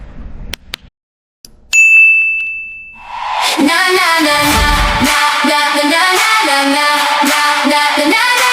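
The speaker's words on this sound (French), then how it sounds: "j'ai quand même des petites notifications qui arrivent" A notification ding rings out clearly on its own, a single bright chime with a lingering tone, followed by a louder sustained stretch of other sound.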